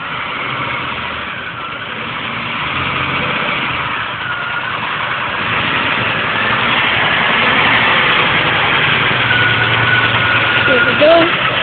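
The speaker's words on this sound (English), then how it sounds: "Pretty cool truck. It's a Peterbilt." A Peterbilt truck hauling an oversized lowboy load idles with a steady mid-pitched engine drone that grows slightly louder toward the end, with voices talking over it outdoors.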